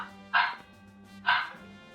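A dog gives two short, evenly spaced barks close by, separated by a quiet pause over a faint low hum.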